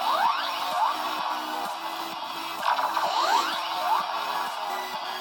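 An electronic sound effect plays continuously from a Transformers Animated Leader Ultra Magnus toy with its red button held down, a looping tinny synthesized warble with repeating sweeps, close up and with no talking.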